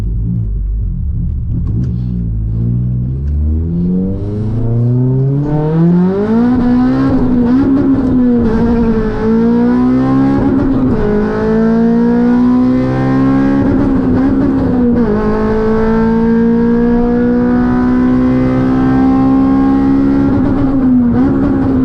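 A K24-swapped Honda FN2 Type R engine drones loud and close from inside the car, its pitch rising and falling steadily through long pulls with a sustained rumble and no talking.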